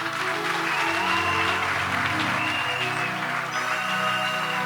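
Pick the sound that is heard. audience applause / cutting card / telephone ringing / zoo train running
audience applause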